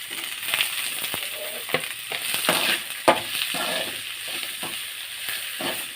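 Chopped carrots fry in a pan for a soup, giving a steady crackling sizzle with irregular sharp pops and stirring scrapes throughout, close and moderately loud, with no voices.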